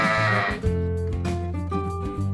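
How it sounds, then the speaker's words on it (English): A sheep bleats in a couple of wavering, nasal calls, close and prominent over a steady background music bed. "Sheep."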